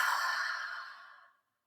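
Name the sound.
exhaling breath during yoga breathing exercise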